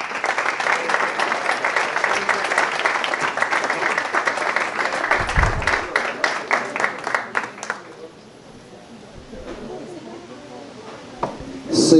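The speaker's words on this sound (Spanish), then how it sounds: "Les pido un aplauso para recibir a Armando Fernández." An audience applauds loudly to welcome a basketball player onto the court. The clapping is dense and sustained for about eight seconds before dying away into quieter room sound.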